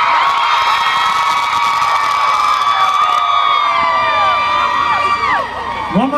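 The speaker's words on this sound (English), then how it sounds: "believe the girls could yell louder than that by themselves" A large group of girls yells, whoops and cheers loudly in a continuous roar of crowd noise that dips briefly near the end.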